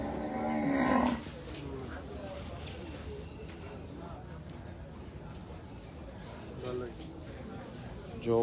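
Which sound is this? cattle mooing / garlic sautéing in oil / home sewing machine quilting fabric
cattle mooing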